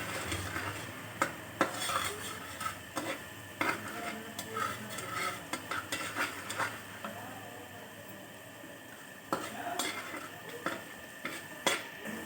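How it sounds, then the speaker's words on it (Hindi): Sauce of coarse red chilli flakes, salt, ground red chilli, sugar and green chilli being stirred in a pan, with repeated spoon scrapes and clinks against the pot, faint sizzling underneath, and no talking. "इसके अंदर शामिल कर दूँगी और अच्छी तरह इसको मिक्स कर दूँगी"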